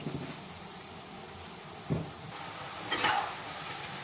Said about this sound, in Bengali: এবার এটা একটু লাল লাল করে ভেজে তুলব